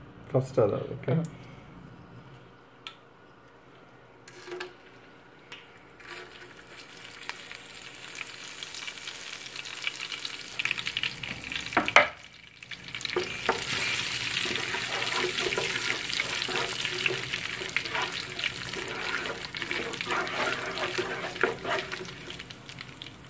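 Cloves, cardamom, cinnamon, cumin and fennel seeds dropped into hot oil for a Kerala-style mutton curry, a steady sizzling hiss that swells louder in the second half, with a voice talking at times.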